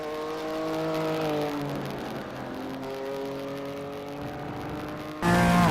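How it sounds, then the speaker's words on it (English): A BMW GT4 race car in a racing video game takes the last turns at Silverstone toward the checkered flag, its engine droning with rising and falling gear-change pitch, steady and close, then a sharp louder burst at the end. "the number 595 BMW driven by David Humphreys, coming through the last couple of turns"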